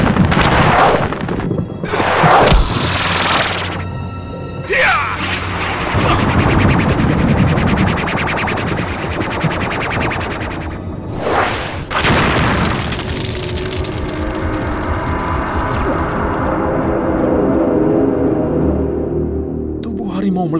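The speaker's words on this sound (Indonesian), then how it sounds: "Tubuh harimau meledak hancur, berubah menjadi kepulan asap." Booming explosion effects and crackling bursts fill a Javanese radio drama scene in which a magical tiger's body blows apart into smoke, loud and layered with dramatic music and voices.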